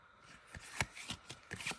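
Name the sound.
shuffling a gilded tarot deck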